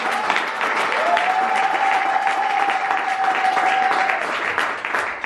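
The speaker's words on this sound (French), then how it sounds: "Et le peuple acclame, acclame, acclame." A church congregation claps and cheers together, a loud sustained wash of applause with a held whistle or shout rising over it, filling the room for several seconds before tapering.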